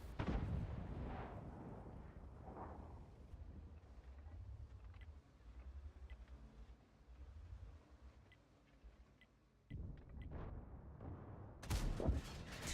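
Tank cannon fire in World of Tanks, with a few heavy booming blasts, the loudest at the start and a burst near the end, between quieter engine rumble and distant battle noise, with no talk.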